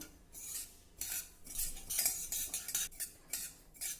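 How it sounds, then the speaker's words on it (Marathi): Poppy seeds dry-roasting over a low flame while a spoon stirs them around the pan: close, light scraping and clinking in uneven strokes, with a faint rustle of the tiny seeds and no voices. "मंद गॅसवर ही खसखस देखील थोडी भाजून घेऊ"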